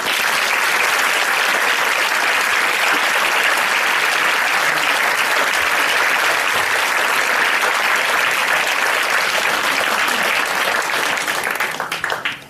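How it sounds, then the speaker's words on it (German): A lecture audience in Vienna applauds to welcome Dr. Rupert Sheldrake, dense, loud, sustained clapping filling the hall without pause before tapering off at the very end. "lasst ihn mir herzlich willkommen mit einem großen Applaus"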